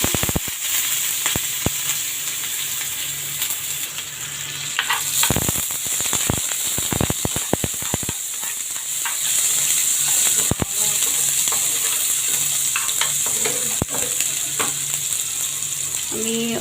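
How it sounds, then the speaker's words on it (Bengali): Onions frying in oil in a pan make a loud, steady sizzle with repeated sharp scraping clicks from stirring throughout. "পেঁয়াজ দিয়ে দিব।"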